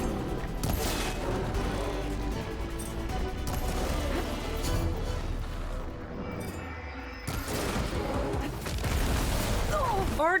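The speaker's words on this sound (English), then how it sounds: "Exploding." Explosions in Horizon Forbidden West: loud continuous booms, crashes and rattling bursts fill nearly the whole stretch, briefly easing before surging again, close and heavy.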